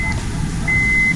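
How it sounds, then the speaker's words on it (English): A Honda S2000 fuel pump switches on with a low battery, giving a steady faint electric whine that holds for about half a second over a quiet background hum. "Fuel pump's on."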